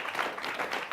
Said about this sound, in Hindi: तालियां फिर धीमी पड़ गई